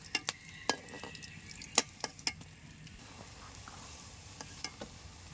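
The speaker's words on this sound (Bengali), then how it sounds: "অল্প অল্প করে ভেজে নেব" Eggs frying in oil in batches give a quiet bed of frying noise broken by sharp clicks and taps of a utensil against the pan, irregular and close.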